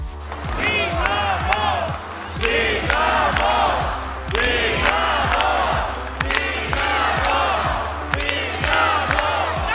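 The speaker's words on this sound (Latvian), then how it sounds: "skatītāji saglabāja optimismu un sniedz enerģijas lādiņu ar skaļiem saucieniem un ovācijām" Hockey spectators at a Dinamo Riga game shout and cheer in loud, rhythmic chanting, many voices rising and falling together in repeated bursts, with what sounds like drumming beneath the crowd noise.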